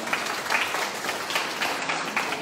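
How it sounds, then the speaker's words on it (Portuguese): Audience at a dance hall ball clapping in a round of applause for a raffle donor, moderately loud, steady patter of many hands with slight pulses, no talk over it. "com uma salva de palmas"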